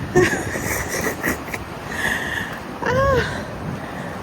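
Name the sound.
strong wind outdoors during a morning walk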